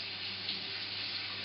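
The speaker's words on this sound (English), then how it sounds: "we're going to put it into a fine mesh strainer and just give it a quick wash" Brown rice being rinsed in a fine mesh strainer under a running kitchen tap, a steady close hiss of flowing water with no voices.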